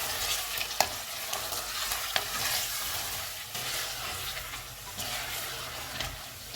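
Mutton is fried with onion, ginger and garlic paste over a full flame, giving a broad, steady sizzle with intermittent scrapes and knocks from stirring, close and fairly loud throughout.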